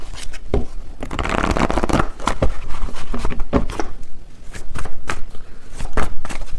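Tarot cards are shuffled vigorously and close up, making a dense run of loud riffling and slapping bursts that continues throughout with no talk.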